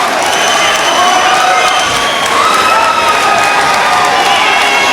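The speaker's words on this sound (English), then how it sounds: "the crowd goes wild" A packed arena crowd roars and cheers continuously after a ground-and-pound stoppage from the triangle position at an ICE FC mixed martial arts bout, with loud shouts and whoops layered over a constant wall of noise.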